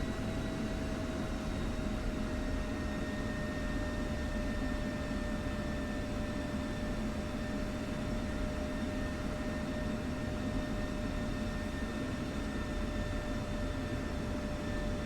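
An F-16 jet in a DCS flight simulator gives a steady, loud engine roar with a high whine held throughout and no pauses.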